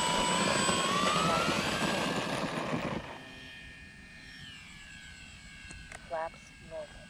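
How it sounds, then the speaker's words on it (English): Electric engine of an FMS Pilatus PC-21 model airplane spools with a loud steady whine that cuts off after about three seconds, leaving faint high tones and a couple of brief bursts. "Engines on."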